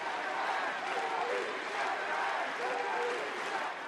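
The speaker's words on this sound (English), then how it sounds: "In the 7th of November stadium, tens of thousands of people cheered Zine al-Abidine Ben Ali." Tens of thousands of people cheer Zine al-Abidine Ben Ali in Tunisia's 7th of November stadium at an election campaign rally, a dense, steady roar of crowd noise holding at an even level throughout.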